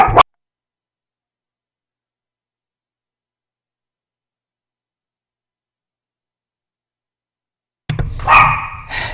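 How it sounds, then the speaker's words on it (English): A dog barks in a short burst at the very start, then silence, then a louder, longer round of barking and yelping at the end, close by and agitated. "my dog's going crazy"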